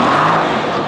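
A Mercedes-AMG GT S with a 750 hp engine roars steadily on a wet road, heard loud and close in a brief, continuous burst with tyre hiss mixed in.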